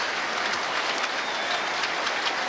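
Cricket crowd in a New Zealand versus England match, applauding with dense, steady clapping throughout, broad and sustained like rain at moderate distance.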